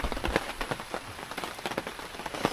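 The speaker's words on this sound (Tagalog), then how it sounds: "Hindi humupa yung ulan." Steady rain patters on a surface outdoors around a hanging tree house, a dense continuous wash of drops with sharper individual splats standing out, moderately loud and without voices.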